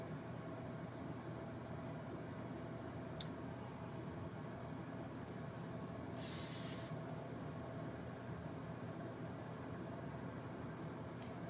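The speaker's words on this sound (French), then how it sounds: "J'aime mieux le spray net que le gel" Hairspray mists onto hair in one short hissing burst about midway, standing out briefly over a faint steady background hum with a few tiny clicks before it.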